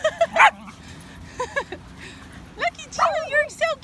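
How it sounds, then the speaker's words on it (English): A small dog gives a string of high yips and whiny barks, close and loud, in short bursts with brief pauses between them. "Gemma, no barking. Good girl."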